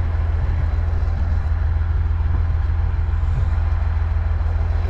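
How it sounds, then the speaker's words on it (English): A Perkins diesel engine in a tractor runs steadily with a low, even rumbling purr, close and constant through the whole clip, with no talking. "God, love the purr off that Perkins"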